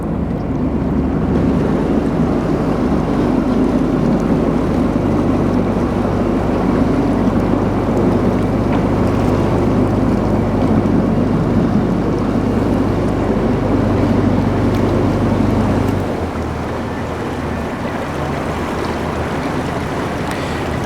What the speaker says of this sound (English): A boat coming, yes.